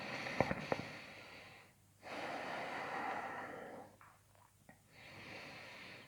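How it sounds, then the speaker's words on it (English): Slow, close, fairly quiet breaths during a gentle yoga class, taken while holding downward dog. Several long breaths are separated by short pauses, with a few small sniffs at the start. "Just keep breathing."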